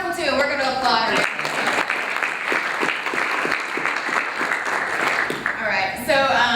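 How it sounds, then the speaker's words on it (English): An audience at a teachers' research program closing ceremony bursts into loud, sustained applause for about five seconds, with voices heard just before and after the clapping. "we're going to applaud her"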